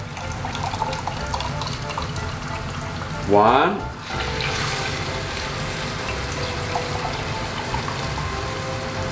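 Water is poured into a pot of risotto on the stove, giving a short bright gurgling rush over a steady sizzling simmer and background noise, while a person talks nearby.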